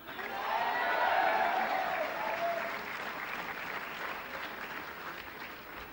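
Loud, sustained applause from a large audience at Al Akhawayn University's fifth commencement ceremony, swelling early and then holding steady as dense clapping filling the hall.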